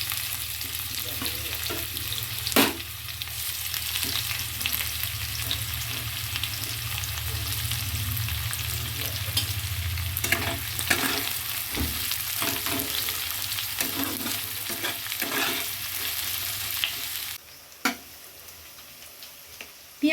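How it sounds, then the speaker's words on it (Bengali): Chopped onions, about 250 grams, fry in hot oil on a low gas flame for dhaba-style handi chicken, giving a steady broadband sizzle with occasional stirring clicks, close and continuous before quieting near the end. "পেঁয়াজগুলোকে এবার তেলের মধ্যে দিয়ে দিলাম"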